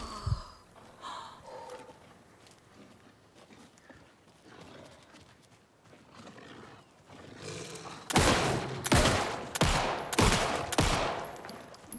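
Close, loud gunshots in Alan Wake II combat: a rapid run of about five heavy reports in the last four seconds, following quieter ambient game sounds and scattered thuds.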